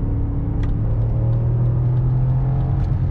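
A chip-tuned 309 hp 4.4-litre V8 in a BMW X5 E53 pulls in second gear through city streets, a steady low engine drone and rumble heard from inside the cabin.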